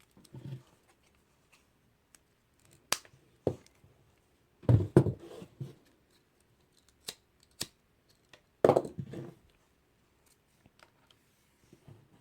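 Scissors snipping thread during a kandi beadwork project, a handful of short sharp cuts and clicks spaced apart against near silence.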